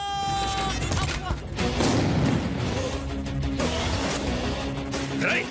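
A Telugu action film gunfire effect: a rapid fusillade of loud, sharp bursts and crashing impacts that swells and fades across several seconds amid other film sound.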